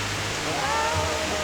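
Water trickling steadily beneath a mostly frozen waterfall in Norway, a continuous soft broadband rush with a faint low hum underneath, close and even throughout.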